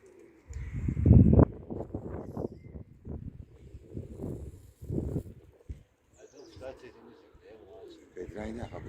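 Pigeons cooing in a loft with roughly 25 birds still up overhead, low soft coos repeating through the clip while people talk nearby.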